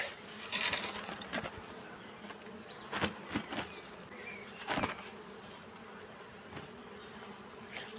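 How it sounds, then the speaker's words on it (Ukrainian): A swarm of honey bees buzzing as they are moved from a trap into a hive, a soft, constant hum with bees darting past the microphone in brief louder buzzes, outdoors. "приступаємо до пересаджування бджілок із пастки у вулик"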